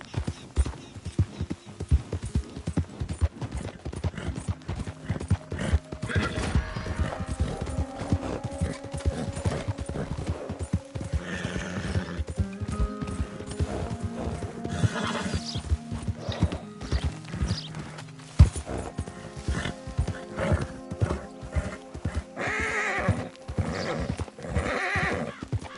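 Horse in a PS4 game, hooves clip-clopping in a busy irregular rhythm with repeated neighs and whinnies, close and fairly loud, occasional soft speech.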